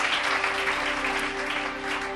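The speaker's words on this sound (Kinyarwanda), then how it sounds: "Tubakomera amashyi kuko bagize neza." Audience applause at a Living Hope Church gathering, a steady dense wash of clapping throughout with a faint background tone underneath.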